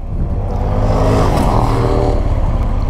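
Motorcycles on a Peak District road pass close by in loud, overlapping engine swells that rise and fade into one another, with no voices.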